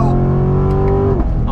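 A Chevrolet Corvette C7 Grand Sport accelerates hard on throttle, its engine holding a loud, steady drone close by before the pitch breaks off abruptly near the end, as if shifting or lifting off.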